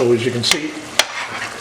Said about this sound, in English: I'm going to let that bubble just for a while on a high heat, this time without the lid on.